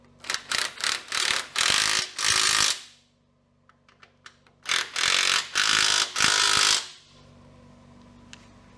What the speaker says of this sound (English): the nuts are on and I'm about to tighten her up